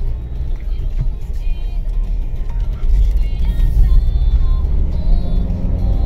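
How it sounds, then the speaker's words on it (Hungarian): A Citroen C4 1.6 HDi car pulls away under acceleration, its steady low engine rumble swelling louder midway and holding close and full to the end. "Nagyon szépen megindul az autó, ha odalépünk."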